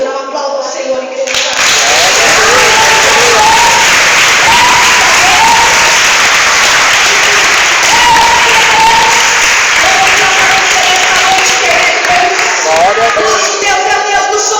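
A church congregation breaks into loud, sustained applause that fills the room for over ten seconds, with cheering voices and faint tones rising through the dense clapping.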